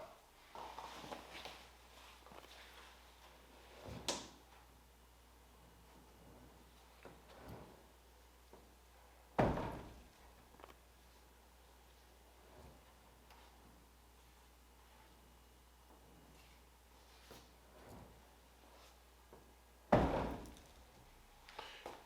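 Three separate soft thumps of a 1972 Camaro door on aftermarket hinges with no striker, swinging shut on its own, spaced far apart, with faint creaks and ticks between them.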